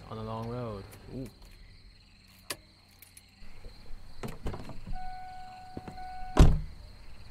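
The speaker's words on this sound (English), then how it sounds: "Oh, shut the door on me." Door shutting in the video game Loveland, a sharp loud slam near the end that follows scattered clicks, creaks and a steady insect-like chirp in the background.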